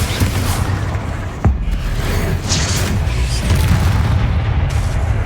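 Confringo fire spell from the Hogwarts Legacy video game sets off a booming blast amid dense, continuous game combat noise, one strong thump near the start with rumbling explosions running throughout.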